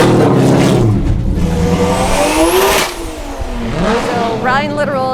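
Formula Drift car on a competition run, engine revving loudly with sweeping pitch changes and tire squeal, close and strong throughout.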